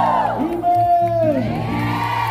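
A crowd at an El Shaddai worship gathering whoops and shouts "woo" in praise, a loud sustained swell of many voices over a steady tonal backing.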